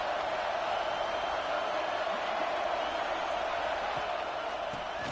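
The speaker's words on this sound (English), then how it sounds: "This crowd ready to make its presence known." Steady stadium crowd roar from the Madden 26 football video game, a broad continuous wash of cheering that holds level and loud throughout without breaks, with no voices standing out above it.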